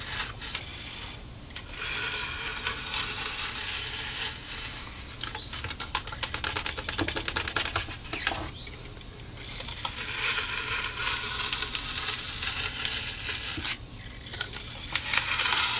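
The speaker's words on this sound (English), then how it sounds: "cut this piece of foam in half, right through the center, as close to the center as I can get" A knife cuts slowly through a piece of foam, cutting it in half through the center. The sound is a close, scratchy rasp that comes in uneven strokes with short pauses between them.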